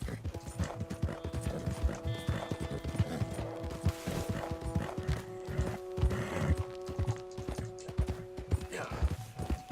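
Horse hooves clop steadily in Red Dead Redemption II, with a possible neigh, under a continuous bed of game music and effects at moderate, even loudness.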